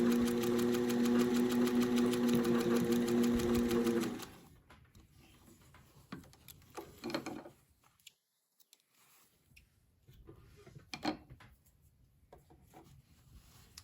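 A sewing machine stitching a straight seam runs with a close, steady whirring buzz for about four seconds, then stops, leaving quiet handling sounds of fabric and small clicks.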